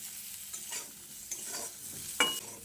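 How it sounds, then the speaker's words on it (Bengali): Drumstick stems being stirred with ground spices in a pan over a low gas flame, giving a soft, steady frying hiss with a few scraping strokes and one brighter clank near the end, no talk. "গুঁড়ো মশলাগুলো দিয়ে গ্যাসের ফ্লেমটাকে লোতে করে সজনে ডাটার সঙ্গে ভালো করে মিশিয়ে নিতে হবে"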